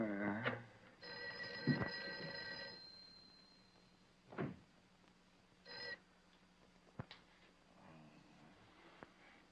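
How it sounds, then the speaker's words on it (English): An old-fashioned telephone bell rings in a single long burst, followed by scattered faint knocks and thumps as the call goes unanswered in a quiet room. "Mary, see if you can get Jan on the phone"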